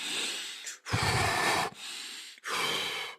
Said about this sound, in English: Take a deep breath, right?